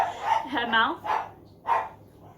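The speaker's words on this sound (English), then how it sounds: "The dogs are play fighting." Dogs barking and yipping in short bursts while play fighting indoors, several quick barks close by, with someone talking over them.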